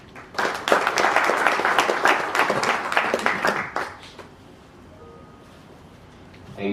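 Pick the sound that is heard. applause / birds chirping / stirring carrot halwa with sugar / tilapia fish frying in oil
applause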